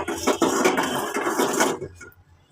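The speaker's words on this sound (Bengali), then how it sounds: "চুলাতে প্রথমে কড়াই দিয়ে দিছি দিয়ে দেওয়ার পরে আমি এখানে সামান্য পরিমাণে তেল দিয়ে দিতেছি" A metal wok set on a stove clatters and clanks several times in quick succession up close, then the noise fades to near silence.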